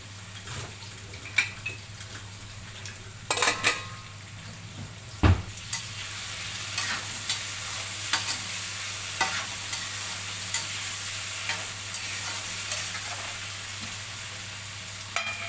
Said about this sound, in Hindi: आलू हो गया थोड़ा सा फ्राई।